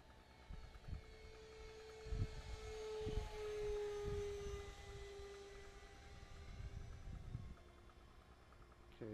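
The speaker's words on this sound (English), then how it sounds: "Nice flyby." A de Havilland Vampire jet flies past, a distant engine tone that rises and then slowly fades, with low rumbling bumps underneath and no voices.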